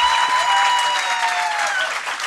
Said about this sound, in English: if you clap really, really, really hard, Mohammed Hanif may consent to read from some of his new work